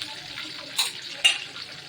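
Curry leaves and green chilli crackle in hot oil in a pan while a South Indian rava dish is cooked, a soft steady sizzle with two sharper spitting bursts close by and no talking.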